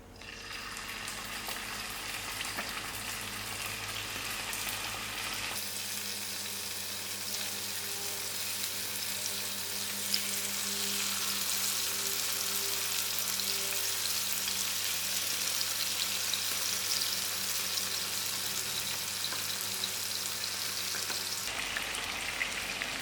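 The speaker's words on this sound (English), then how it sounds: "Firstly, I'm going to fry out these livers very lightly." Chicken livers frying lightly in half a cup of oil in a pan over moderate heat give a steady, even sizzle that stays close and constant throughout, with no voices.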